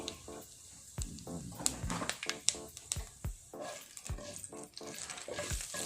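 Mustard seeds and cumin sizzle in oil left from frying fish in a kadai. Sharp, irregular pops and spattering crackles sound near and fairly quiet, with no voices.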